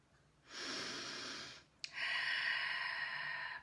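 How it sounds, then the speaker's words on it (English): Slow meditative breathing during a chakra meditation, two long, soft, airy breaths close to the mic, each lasting over a second, separated by a short pause and a faint click, with no talking. "Breathing out all of the stress."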